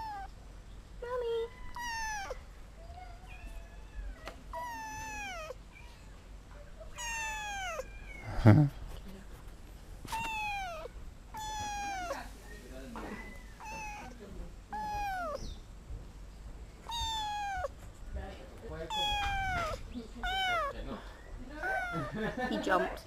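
Repeated high kitten meows, short and insistent, come in quick succession close by in the Amazon jungle, with people talking in between.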